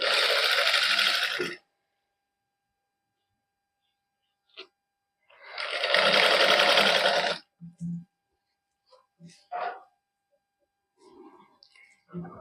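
Domestic sewing machine stitching fabric with a narrow lace trim, running in two loud sustained bursts of about one and a half seconds each, separated by quiet handling clicks and soft rustles.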